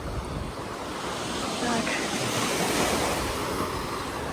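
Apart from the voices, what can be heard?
waves on a beach in Odessa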